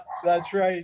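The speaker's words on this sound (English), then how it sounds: "I apologize for my dog barking upstairs." Dog barking from upstairs in a home, two harmonic bark-like yelps over roughly a second, mixed with a man's speech.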